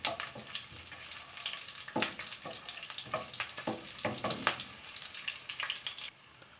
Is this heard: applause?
no